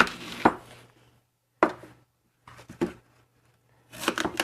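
Knife cutting through apples on a board, several separate crisp chopping and slicing strokes spaced by silent gaps, close and fairly quiet.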